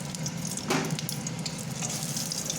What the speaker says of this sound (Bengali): খুব কম তেল ফোড়ন দিয়ে দিলাম